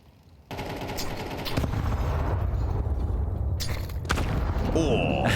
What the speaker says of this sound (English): Oh, nice nades.